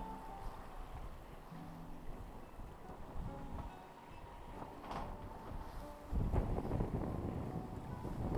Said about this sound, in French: le vent il y en a toujours autant